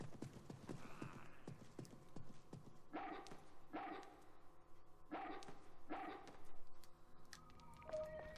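A demon dog in the survival horror game Haunting Ground barks and growls in bursts over rhythmic clip-clop footsteps and game ambience, fairly faint, with no talking.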